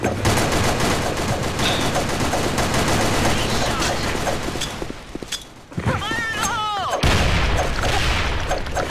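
Video game gunfire crackles in dense, continuous bursts with booming impacts, pausing briefly near the middle before resuming loud, with faint voices mixed underneath.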